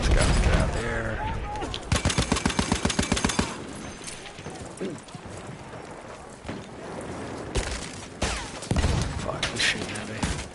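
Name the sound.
gunfire in a video game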